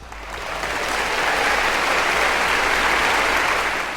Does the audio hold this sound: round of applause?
yes